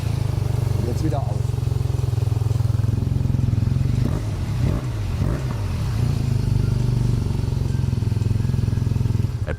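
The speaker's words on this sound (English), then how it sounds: "A prototype flap-controlled exhaust from Jekyll and Hyde in Holland, built specifically for this bike." A BMW R12 cafe racer motorcycle idles through a prototype flap-controlled exhaust with the flap open, giving a deep, loud, steady rumble with a couple of short throttle blips in the middle and a brief clatter near the start.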